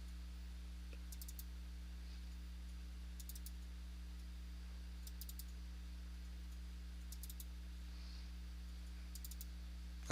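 Small bursts of quick mouse clicks repeat about every two seconds during play of a shooter game, faint and close over a steady low electrical hum, with no talk.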